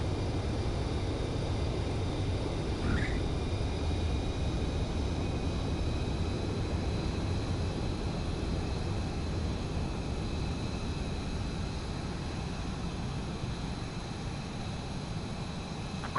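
Jet fighter aircraft in the Ace Combat 7 video game, a steady broadband engine roar holding at even loudness throughout, with no speech.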